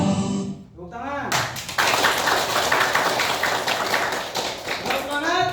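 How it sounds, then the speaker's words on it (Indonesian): Children clap their hands in a classroom, a burst of quick, rhythmic claps starting after a moment of children's voices and going on alongside their chatter. "Tepuk tangan."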